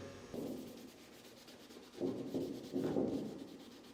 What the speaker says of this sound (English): now I'm just using a Scotch-Brite pad to go over the entire surface to scuff it up